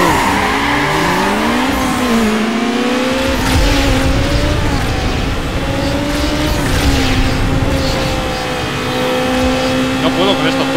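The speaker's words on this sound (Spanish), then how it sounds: "quiero lo que es revolucionar bien el coche, pero es súper difícil mantenerlas a unas revoluciones exactas" A Mazda RX7's engine in the racing game Need for Speed Underground 2 revs and holds at changing speeds, its pitch sliding up and down continuously, loud and close, with faint tire squeal mixed in.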